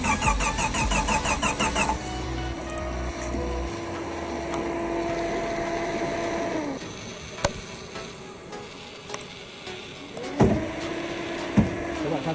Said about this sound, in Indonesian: Dan akhirnya mobil itu pun dapat dinyalakan kembali